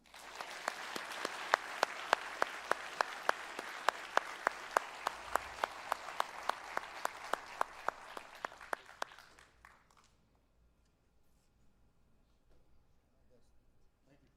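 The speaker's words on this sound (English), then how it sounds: "Ladies and gentlemen, one more round of applause." Audience applause at a sheriff's office awards ceremony, a steady run of clapping with sharp individual claps standing out, lasting about nine seconds before cutting off into near silence.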